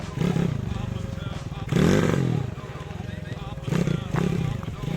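A dirt bike engine idles and revs in bursts outdoors, rough and loud, rising and falling several times while people talk over it.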